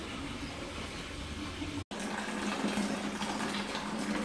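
Water rushes steadily through a wort chiller hose during home brewing, a constant close gushing flow with one brief cutout midway.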